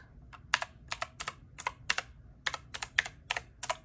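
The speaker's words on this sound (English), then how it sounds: "louder, higher pitch clicks versus my previous keyboard" Fiodio 61-key RGB mechanical keyboard with blue switches and plastic housing and keys being typed on, giving crisp, loud, high-pitched clicks in quick irregular bursts, close up against a quiet background.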